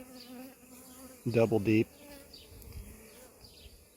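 A packed honey bee swarm from a cell-builder hive buzzes steadily and close throughout, with a brief burst of speech over the drone partway through.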